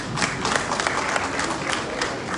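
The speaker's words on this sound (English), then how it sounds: "I was thinking somebody is going to clap." An audience at a political delegates' meeting in Bayelsa State claps in a dense burst of applause, steady and fairly loud throughout with crowd murmur mixed in.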